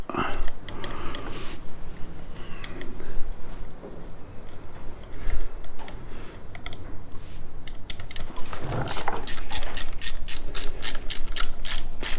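Bolts on a coolant pump of a Suzuki V-Strom motorcycle are tightened with a hand ratchet, giving close bursts of rapid clicking with pauses as the tool moves from bolt to bolt, plus light metal handling noises.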